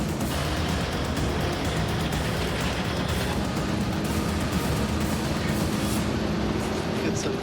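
A road train truck engine grinds steadily uphill on a slippery outback jump-up at midday heat, a dense, continuous low roar with rumbling drivetrain noise that never lets up.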